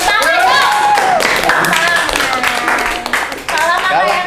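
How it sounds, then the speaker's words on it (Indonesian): Clapping from a small group of people in a podcast studio, fairly close and uneven, mixed with cheerful talking and voices throughout. "Ayo tepuk tangan dong."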